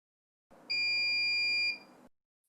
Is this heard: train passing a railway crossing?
no